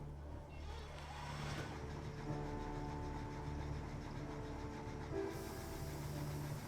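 Railway engine Leslie starting up and a train rolling out of Abersyth station, a steady low mechanical rumble with tonal hums and a brief hiss, building slightly as it moves off.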